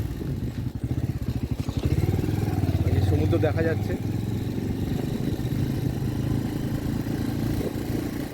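A motorcycle rolling into Gopalpur sea beach on a solo bike trip, its engine chugging steadily and close throughout while a person talks over it.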